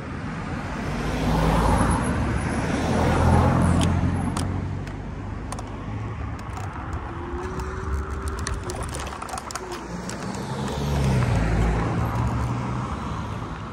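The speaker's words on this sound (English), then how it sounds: "there is traffic coming from the roundabout to the left" Road traffic flows through a busy junction beside a roundabout, a continuous low engine rumble that swells as vehicles pass near at the start and again toward the end, with a faint whine in the middle.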